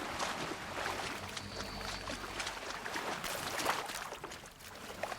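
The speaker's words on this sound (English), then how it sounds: "We just go swimming in this ice-cold water." Ice-cold water sloshes and splashes as a character swims in Horizon Zero Dawn, a continuous watery churn with trickling and lapping textures, moderately close and steady, no voices over it.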